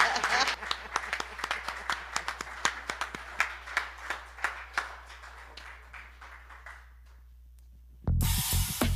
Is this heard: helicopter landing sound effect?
no